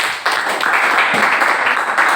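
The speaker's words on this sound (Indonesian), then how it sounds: "Oke, tepuk tangan buat kelompok 1" A classroom of students gives a student group a burst of clapping after its presentation, a dense, steady patter of many hands that carries on for a couple of seconds.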